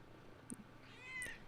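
A house cat gives a short, faint meow, then a second higher, drawn-out mew about a second later, heard close and quiet with no talk over it.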